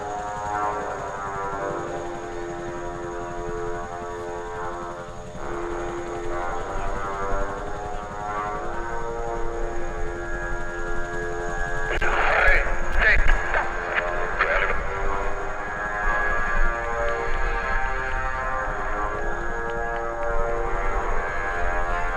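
A Swiss PC-7 team soloist, a propeller aircraft, flies past at the RAF Cosford airshow, its drone swelling toward a louder pass near the middle and staying steady afterward, with no talk.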